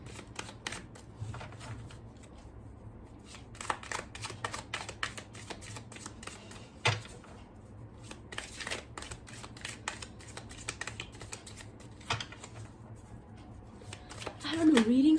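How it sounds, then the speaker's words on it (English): Tarot cards riffled and shuffled by hand in quick crisp bursts of papery flicks, quiet and close, with pauses between rounds and a voice speaking at the end. "Let's shuffle maybe one more time, and then we're going to start."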